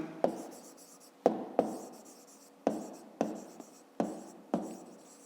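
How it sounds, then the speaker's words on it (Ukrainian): Hand writing out a fifth-grade math exercise, a run of seven crisp pen strokes and taps spaced roughly a second apart, close and fairly quiet, with no voices. "Пишемо точка Б."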